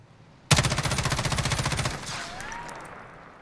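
MCX Virtus SBR firing full auto in Call of Duty Modern Warfare: a single loud, rapid unbroken burst of about 25 shots lasting roughly one and a half seconds, then fading reverb and faint mechanical tails.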